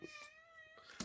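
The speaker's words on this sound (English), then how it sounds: "you can probably hear my cat there anytime I'm talking" A house cat lets out a single drawn-out meow, faint and somewhat distant, in a quiet room.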